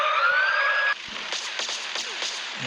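A police car siren in the mobile game Medout2 wails loud and close for about a second, then cuts off, leaving scattered thuds and clatter.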